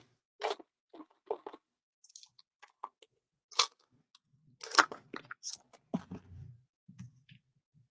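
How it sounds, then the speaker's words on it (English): Gum being chewed close up, with soft intermittent wet clicks and crunchy bites spaced irregularly, quiet and alone with no talking. "Okay, I just need some gum."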